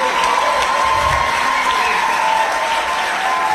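A church congregation at a revival service erupts in loud, sustained applause, cheering and shouting, a dense continuous wall of clapping and voices that stays strong for the whole stretch.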